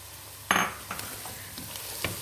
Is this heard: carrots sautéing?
yes